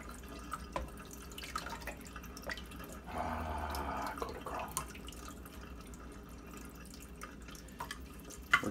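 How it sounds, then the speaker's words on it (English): Rinse water pours out of a film developing tank during home Super 8 Kodachrome processing, a short steady splash of draining liquid lasting about a second amid faint drips and quiet room noise. "So now we will just simply drain the rinse water"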